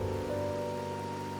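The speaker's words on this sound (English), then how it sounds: "Today's rain feels different. As it falls, the troubles of yesterday are washed away." Steady rain falls in the video game Wuthering Waves, a continuous even patter under a sustained tonal musical drone, with no voices.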